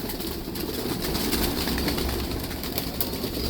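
Lalpari pigeons in a loft coo softly and continuously, a low murmuring over steady background noise with a few light flutters.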